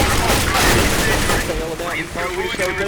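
Rapid gunfire rattles during a CS:GO match, loud dense shots ending in a headshot kill, under fast excited commentary.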